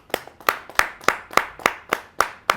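Audience clapping for poet Rajesh Chetan at a Hindi kavi sammelan: sharp, evenly spaced claps, about nine across a few seconds, fairly close and steady in rhythm, with no talking.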